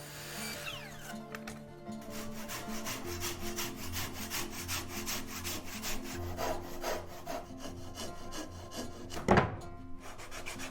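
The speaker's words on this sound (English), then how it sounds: "The circular saw can be adjusted at any angle" Hand-held circular saw at a Japanese house floor installation, cutting through wooden floorboards with a steady buzzing rasp, broken by several short strokes and a loud bang of impact near the end.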